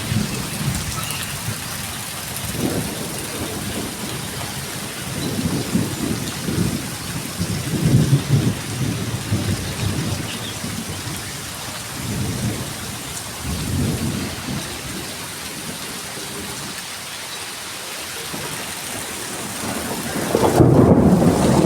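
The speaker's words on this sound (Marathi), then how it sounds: "किती जोराचं गडगडते दे बघा" Steady heavy May rain in Konkan hisses throughout while thunder rolls in several long, deep rumbles, growing louder again at the close.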